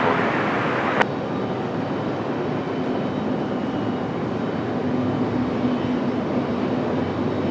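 An airliner taking off from runway 23 right at Raleigh-Durham International Airport, with a loud, steady broadband engine roar that holds throughout after a brief click at the start.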